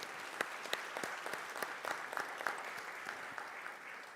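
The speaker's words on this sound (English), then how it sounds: "kindly I would like you to give a round of applause to yourselves and also to the panelists" Audience applause for panelists at the launch of the Taifa satellite, a light, fairly distant patter of clapping with individual claps standing out, steady and alone for several seconds.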